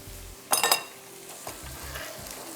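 Chicken browning in a pan with ginger-garlic paste for green masala biryani: a loud burst of sizzling and stirring clatter, then a steady quieter frying hiss with light utensil scrapes.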